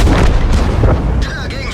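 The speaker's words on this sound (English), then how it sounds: "it looks like artillery's helping us out" Artillery fire in World of Tanks: heavy booming blasts and rumbling fill the whole stretch, loud and dense, with a voice talking over part of it.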